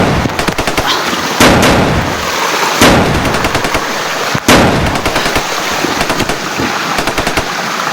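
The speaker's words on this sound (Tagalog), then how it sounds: "Pinagbabarilan naman kami." Sustained bursts of gunfire, rapid automatic fire mixed with single loud shots, crack close by in a wooded combat area, dense and continuous with no talk.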